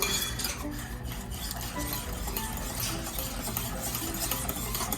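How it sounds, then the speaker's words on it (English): A whisk beats an egg stuffing mixture in a bowl with fast, continuous scraping and ticking strokes, close and steady throughout, with no voices. "Make sure you whisk everything really well."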